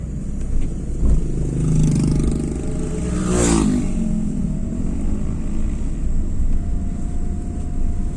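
A motorcycle engine revs hard and rises to a sharp high whine before falling away, close and loud over a rumbling road background, while the bike is lifted for a jump.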